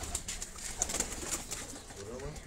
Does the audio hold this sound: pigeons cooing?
yes